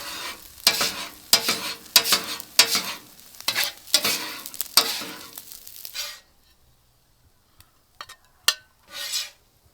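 A spatula stirs steak fried rice with sesame oil and green onions, giving repeated scraping, sizzling strokes up close for about six seconds, followed by near silence and a few sparse scrapes.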